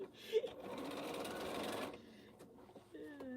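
A sewing machine stitches a quilt seam in a steady whirring run for about two seconds, close and moderately quiet, then stops as a voice speaks briefly.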